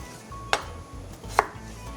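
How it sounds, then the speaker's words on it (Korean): Two sharp knife chops cut potatoes into large chunks on a cutting board, spaced about a second apart, close and crisp over a low background hum. "감자 하나당 8등분 정도 크기로 조금 큼지막하게 썰어서 준비해 주시고요"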